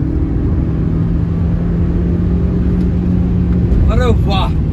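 An old Honda Civic engine pulling in second gear from inside the car, a loud steady rumble with a low engine drone, while someone speaks briefly near the end.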